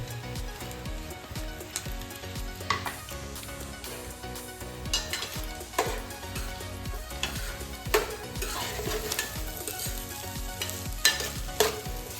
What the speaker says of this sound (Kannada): ಬೀನ್ಸು, ಮತ್ತು ಈರುಳ್ಳಿ ಇದನ್ನು ಇದಕ್ಕೆ ಹಾಕಿ ಫ್ರೈ ಮಾಡ್ಕೊಳ್ಳಿ.